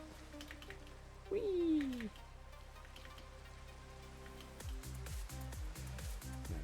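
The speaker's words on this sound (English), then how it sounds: "And now we can sleep and get rid of the rain." Rain in the video game Minecraft, a soft constant patter beneath a brief gliding whoop, a short excited exclamation, then thumping blocky footsteps or game sounds near the end.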